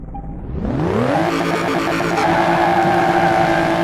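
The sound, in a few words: BMW M3 engine revving in video game Car Mechanic Simulator 2018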